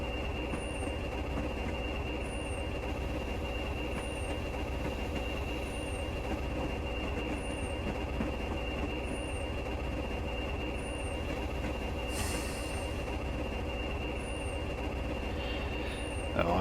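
A Class 20 diesel locomotive in Train Simulator Classic idles and rumbles at a curved harbour platform, with a steady engine drone, a constant whine and faint periodic clicks running through the whole stretch, and no talking.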